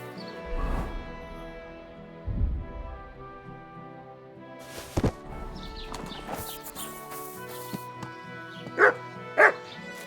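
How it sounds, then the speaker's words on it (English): Dog barking in the medieval video game Kingdom Come: Deliverance II, a few separate woofs spread across the clip over game ambience with hoofbeats and rustling, no talk. "You're my doggy, eh? Come here, boy."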